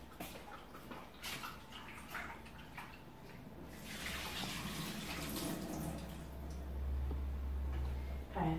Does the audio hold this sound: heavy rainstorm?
no